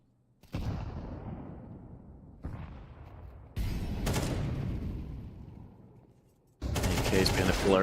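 Desert Eagle and rifle gunfire in a Counter-Strike pro league match, loud sharp shots arriving in separate bursts with gaps between them.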